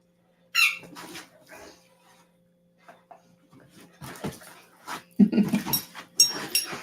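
A dog chews a squeaky ball in a quiet motel room, giving scattered sharp squeaks and short rubbery bursts with silent gaps, fairly close and moderately loud.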